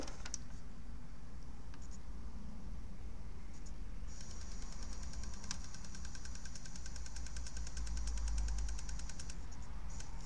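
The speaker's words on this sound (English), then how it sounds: "yep, the CD is clicking." A Bose Wave Music System AWRCC1 with a faulty CD drive and a stuck disc makes a rapid, repetitive clicking for several seconds over a steady low motor hum.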